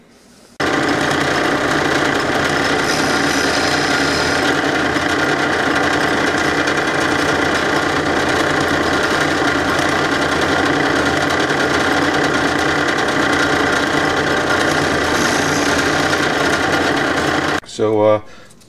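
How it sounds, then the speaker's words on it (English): A power drill bores holes into a wooden guitar fretboard in one long, continuous, loud whirring run that stops abruptly near the end, followed by a short clatter. "drill some holes to countersink some BBs in there to be my markers"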